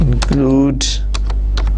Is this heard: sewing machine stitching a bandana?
no